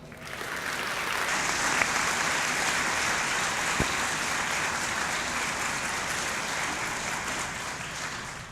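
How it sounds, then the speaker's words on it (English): An audience applauds the nominees at the 2017 Light of Literacy awards held by Wicomico Public Libraries. Steady, dense clapping from a large crowd swells in after a quiet start and holds evenly to the end. "You may applaud all of the nominees"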